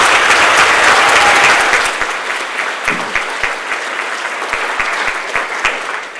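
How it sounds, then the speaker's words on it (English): Audience applause at a college colleague awards ceremony, a dense, loud burst of many hands clapping that thins after two seconds into scattered, distinct individual claps. "So let's give Annie another round of applause."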